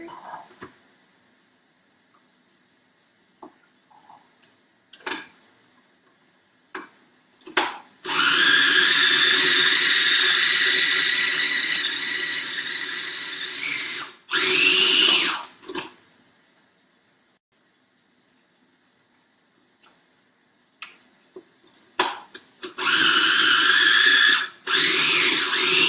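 A blender whirs at high speed mixing a drink in a kitchen, running in several loud sustained bursts of a few seconds each, separated by quiet gaps with faint clinks and handling noises.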